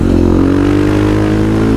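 A KTM 500 EXC supermoto single-cylinder engine fitted with an FMF exhaust revs loud and close, a steady throbbing roar that holds through the whole short stretch.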